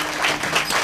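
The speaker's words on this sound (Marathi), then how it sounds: "वाजवा टाळ्या एकदा पोरासाठी आहे" An audience at a Marathi kirtan performance claps together in a dense, steady burst of applause, close and fairly loud throughout.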